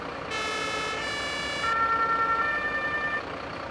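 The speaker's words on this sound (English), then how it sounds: "Sirens." An emergency vehicle siren in a video game wails in steady electronic tones, switching pitch partway through before cutting off.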